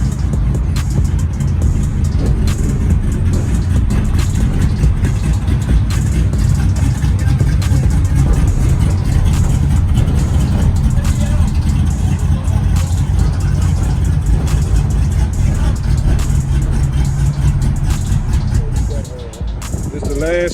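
A lowered, squatted car's engine rumbles loud and close during a rolling car show, a constant heavy low drone with some revving surges, fading slightly at the very end.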